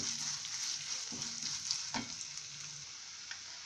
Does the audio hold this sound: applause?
no